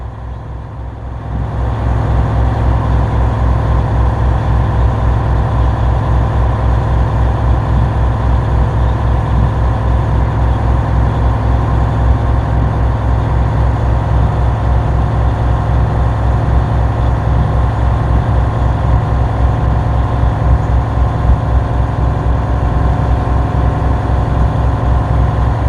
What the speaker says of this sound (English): Just heard the purge, so we know we reached governor cutout.